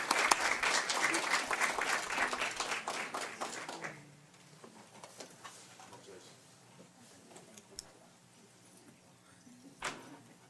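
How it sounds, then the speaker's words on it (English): A school board meeting audience applauds a school's attendance award, loud clapping for about four seconds that cuts off, followed by quiet room tone with scattered light taps and a brief knock near the end. "Let's give them another big round of applause."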